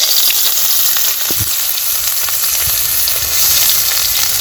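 Onions frying in the same oil used for frying fish, a loud continuous sizzle with a few faint low knocks and stirring sounds, no speech.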